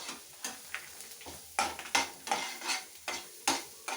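Groundnut chutney ingredients sautéing in a pan, with steady oil sizzle broken by repeated scraping and stirring strokes of a spoon against the metal, close and clear, no voices.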